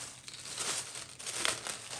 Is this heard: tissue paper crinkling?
yes